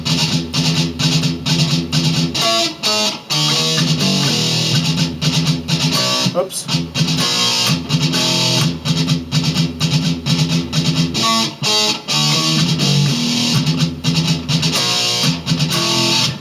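Distorted electric guitar power chords chugging in a fast gallop rhythm, loud and continuous with brief pauses, and a voice breaks in once.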